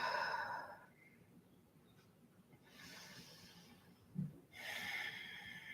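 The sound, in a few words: deep breathing during hamstring stretch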